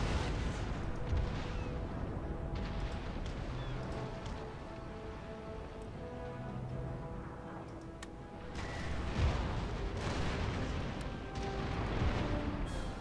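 Ship cannon fire in a naval strategy video game, volleys pounding a nearly stationary Danish fleet, with dense, continuous rumbling booms and crackling impacts layered over several seconds and no talking.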